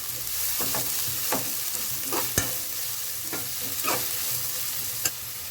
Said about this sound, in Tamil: 1 பட்டை, 3 வெங்காயம் போட்டு நல்லா வறுக்கணும்